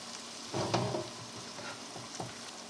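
Mushrooms sizzle in a frying pan as a Salisbury steak is made. A steady close hiss carries a few louder bursts of stirring and tossing, with no voices over it.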